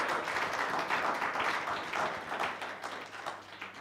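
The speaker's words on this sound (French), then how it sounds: "Let's applaud Jesus." A church congregation applauding during a Sunday sermon, a dense, continuous wash of clapping that holds steady and then eases slightly toward the end.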